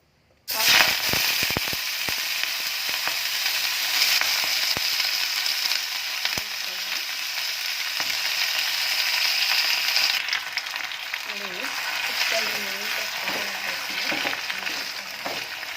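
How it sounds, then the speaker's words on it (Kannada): Spinach and green chillies fry in two spoons of ghee, a loud, steady sizzle that erupts suddenly and crackles continuously close up, with faint stirring sounds later on. "ಮೆಣಸಿನಕಾಯಿ ಮತ್ತು ಪಾಲಕ್ ಹಾಕಿ ನೀಟಾಗಿ ಎಣ್ಣೆಯನ್ನು ಫ್ರೈ ಮಾಡಬೇಕು"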